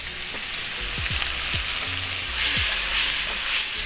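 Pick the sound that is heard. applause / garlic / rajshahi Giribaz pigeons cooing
garlic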